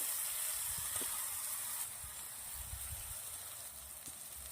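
Chopped green garlic sizzling in hot oil with popped mustard seeds, cumin and asafoetida for a Gujarati-style green garlic curry, a faint steady hiss with soft crackles throughout.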